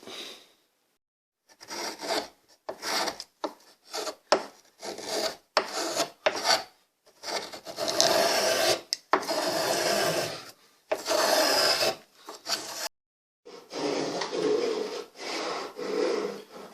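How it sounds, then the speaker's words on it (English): An antique spokeshave shaves down a wooden guitar neck on a Gibson-style build, with repeated short rasping strokes of varying length, separated by brief pauses, close and fairly loud with no talk. "Got my trusty antique spoke shave going, and I'm whittling down the neck to get the right shape."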